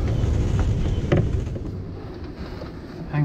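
Steady rushing wash of wind and water with creaks and a brief thud, as a sailboat heaves and rocks in rough Atlantic seas, with no voices.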